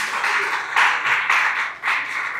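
Loud, rhythmic clapping from a church congregation, beating in unison in a steady pulse of hand claps close by.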